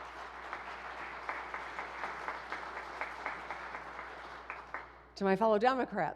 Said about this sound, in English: some claps over here